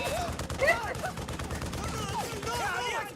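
A movie scene fills with rapid bursts of gunfire, a dense rattle of repeated shots. Overlapping voices and music run on top of the shooting.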